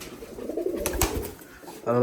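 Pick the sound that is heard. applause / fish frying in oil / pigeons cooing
pigeons cooing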